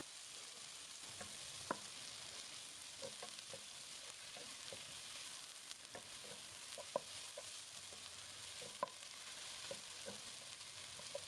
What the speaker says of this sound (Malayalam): അരിഞ്ഞ ഒരു 3 സവാള ഇതിനകത്തേക്ക് ഇട്ട് കൊടുത്ത് നല്ലപോലെ ഒന്ന് വഴറ്റിയെടുക്കാം